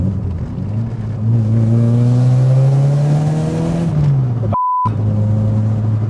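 A Volkswagen Golf G60 accelerates hard to overtake, its engine note climbing steadily and loudly from inside the car before easing off. The sound is briefly cut by a censor beep.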